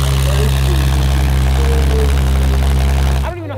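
A Porsche 911 GT3 RS without headers idles loudly and steadily nearby, a heavy low drone with a thin whine on top, cutting off abruptly near the end into a brief shift of sound.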